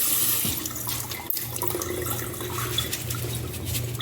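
Tap water runs steadily over pinto beans being rinsed in a strainer at a sink, a continuous close splashing hiss with small shifting patters throughout.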